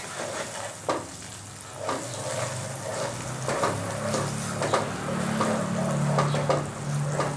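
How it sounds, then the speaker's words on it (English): Koi fish fries in oil in a pan for a Bengali tel koi dish, a constant moderate sizzle with scattered spatters and utensil knocks, plus a low steady hum toward the end. "I have to fry this till the raw smell is gone"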